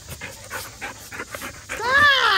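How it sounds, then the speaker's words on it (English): An excited, hyper puppy panting in quick rhythmic bursts up close, then letting out a rising high whine at the end. "crazy little puppy"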